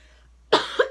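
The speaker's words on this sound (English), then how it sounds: "I don't know why I'm coughing right now." A single adult's sharp cough bursts out close by after a quiet moment, followed by a smaller second cough, indoors during a tabletop craft session making an oil lamp.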